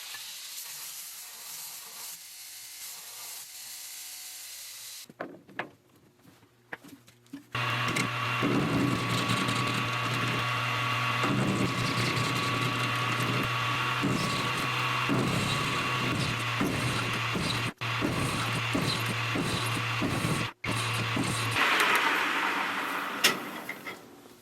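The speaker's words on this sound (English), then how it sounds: "I'm going to take the rust off on the belt grinder" A belt grinder takes rust off a steel track adjuster spring part, starting with quieter work and brief spin-up, then a loud steady abrasive grinding with a low motor hum running for most of the clip, interrupted by short pauses.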